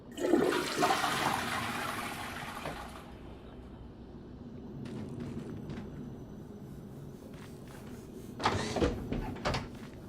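A toilet flushes in a cyberpunk-styled office bathroom in the video game Prey, a loud rushing burst of water that settles into a quieter gurgling refill, followed later by a few faint knocks and a second short whoosh.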